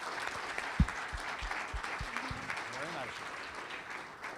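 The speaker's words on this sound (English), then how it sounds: "how about a big round of applause for Ken Calvert?" Applause from an audience at a morning legislative panel event in Corona honoring a congressman, moderate clapping with a few sharper claps and murmuring voices mixed in.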